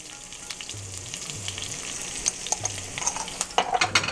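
Chopped green chilies and a pinch of turmeric frying in oil for a potato and dill dish, with a steady close sizzle and scattered crackles and pops that grow busier toward the end.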